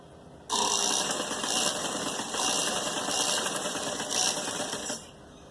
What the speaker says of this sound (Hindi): ये हम यहाँ से बिल्कुल सीधी सिलाई ले रहे हैं।